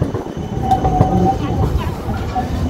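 A tram rolls through a busy Amsterdam street, its steady rumble and wheel noise loud and close throughout, with a brief metallic squeal and a crowd of voices chattering around it.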